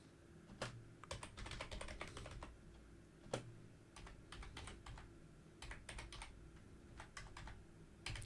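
Commands typed on a computer keyboard while configuring Cisco routing, steady quiet key taps in bursts with brief pauses, close by and with no talking.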